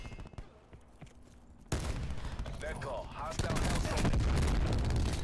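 Rapid bursts of gunfire crackle loudly and continuously in Call of Duty: Black Ops 4 multiplayer, growing denser toward the end, with a player talking over the shooting at times.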